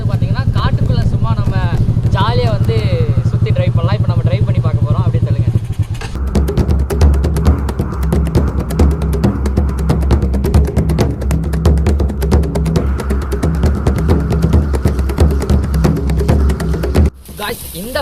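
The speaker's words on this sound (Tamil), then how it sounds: "ATV பைக் வந்து நமக்கு வந்து ட்ரைவ் பண்ணி கொடுக்குறாங்க" An ATV bike ridden at a Kerala farm stay, its engine chugging steadily and loudly up close for most of the stretch, preceded by a few seconds of talk and ending with a brief drop.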